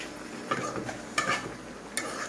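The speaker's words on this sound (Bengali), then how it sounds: "ঢাকনা আগলা করে শাকগুলো একটু নেড়ে চেড়ে দিই।" Spinach greens are stirred in a pan on the stove after the lid is loosened. Three close spatula scrapes and knocks sound against a soft background sizzle, with no voices.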